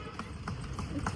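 Horse hooves clip-clop at a steady trot as a horse cart heads to Ana Sagar lake in Ajmer, quick regular hoof strikes under people talking.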